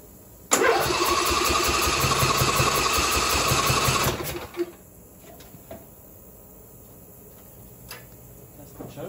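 A Craftsman riding mower engine, built up as a mud mower, fires up and runs loud and steady for about three and a half seconds with no throttle control, then cuts off, leaving quiet with a few faint knocks.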